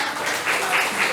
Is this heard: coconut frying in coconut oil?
no